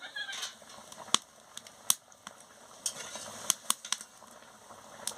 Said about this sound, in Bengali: মাছটা দিয়ে ভালো করে ফুটিয়ে নিচ্ছি